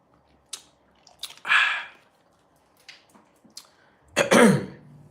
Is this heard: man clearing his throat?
yes